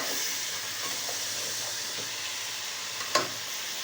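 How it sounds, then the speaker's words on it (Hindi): Chicken frying with garam masala in a pot for biryani gives a steady, fairly loud sizzle and hiss throughout, with one brief sharper crackle or stir near the end and no talking. "ये हमारा चिकन भुन रहा है, इसकी बुनाई करके फिर हम इसमें बाकी मसाले ऐड करेंगे।"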